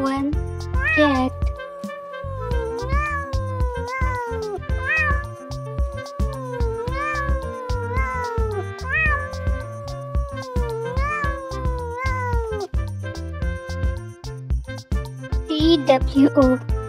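A cat meows repeatedly in a rising-falling pattern over bouncy background music, several distinct meows in a row.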